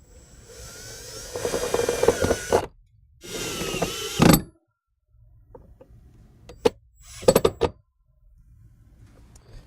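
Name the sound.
power drill driving self-tapping screws into truck firewall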